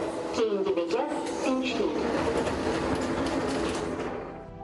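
A Tashkent metro train rumbles and clatters steadily along, a continuous rolling din with squeals and a voice announcing over it, fading slightly at the end.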